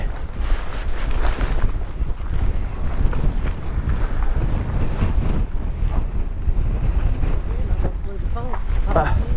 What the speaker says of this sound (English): Whew, the wind is bad.